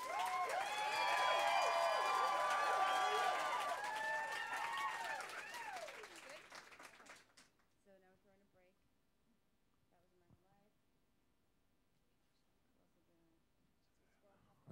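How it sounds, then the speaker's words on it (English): Loud applause and cheering from a large crowd of Madonna fans at an MTV stage special fills the first seven seconds, then cuts off abruptly, leaving near silence with a few faint scattered sounds. "Here we go, guys. Applause."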